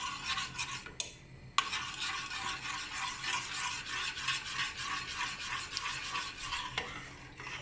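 Urad dal kali dough stirred steadily in a pan over low heat, a continuous close scraping and rubbing texture with brief pauses, no voices.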